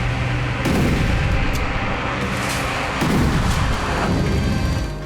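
Artillery, tank and rocket launcher fire in the fighting around Donetsk booms in a couple of heavy, rolling blasts, each followed by a long rumbling decay over a constant noisy background.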